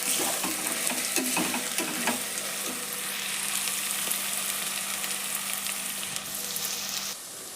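Cabbage pulao ingredients fry in hot oil while being stirred, a steady close sizzle with scraping stir strokes and clinks of the spoon early on, the sizzle continuing alone.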